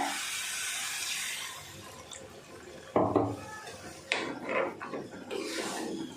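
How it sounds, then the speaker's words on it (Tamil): Water poured into egg gravy simmering in a pan, a steady splashing pour that gives way to sizzling and bubbling with a few sharp clatters. "இதில் கொஞ்சம் தண்ணி சேர்த்து இதை வந்து கொதிக்க விட்டுருவோம்"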